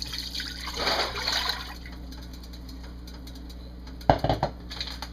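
Four cups of water pour and splash into a stew pot close up, a short trickling stream followed by a quieter pause and a brief second splash.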